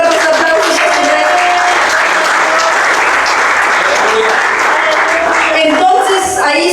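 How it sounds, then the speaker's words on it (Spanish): Church congregation giving loud, sustained applause for their king during a Christian sermon, dense clapping filling the room at steady strength before thinning near the end. "Denle sus fuertes aplausos a su rey."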